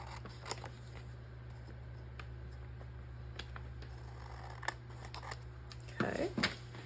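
Sharp scissors snip through paper while trimming a handmade craft piece, giving scattered close clicks and cuts over a quiet hum, followed by a brief rustle of paper.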